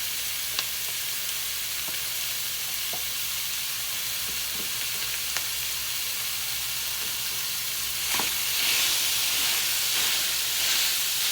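Mashed sausage sizzling and frying in a pot for homemade chili, a steady loud hiss of hot fat throughout with a few faint clicks, swelling slightly near the end.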